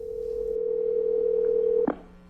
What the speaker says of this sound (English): a strange 911 call is placed